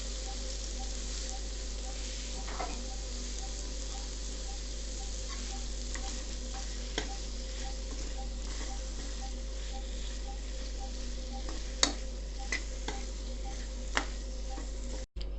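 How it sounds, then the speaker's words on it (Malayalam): Tomatoes for a prawn curry frying in a pan, a steady low sizzle running throughout with occasional faint clicks and scrapes of stirring; no talking. "ടൊമാറ്റോ ഇട്ട് നല്ലതുപോലെ ഇളക്കി കൊടുത്തിട്ട്"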